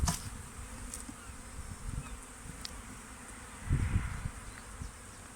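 Honey bees hum in a steady low drone while a hive is opened for a spring inspection, with a few soft knocks and handling bumps.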